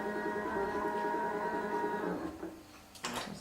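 A computerized quilting sewing machine stitching a row of quilt blocks and sashing gives a steady, close mechanical hum with a rhythmic stitching pulse. Near the end the whirr breaks off and a couple of short clicks follow.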